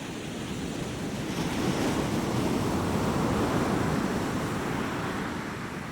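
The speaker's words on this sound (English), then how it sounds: "So this is a non-binaural ocean." Ocean surf captured in a standard non-binaural recording, a soft, continuous wash of breaking waves with a steady rushing roar and some wind noise.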